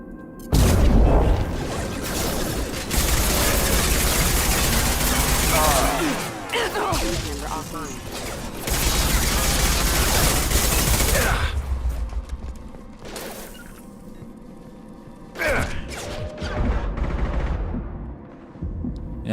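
Gunfire in Mass Effect 2, with loud sustained bursts of automatic shots, booms and whooshing effects in long stretches, then quieter gaps broken by sharper volleys, as a person talks intermittently over the combat.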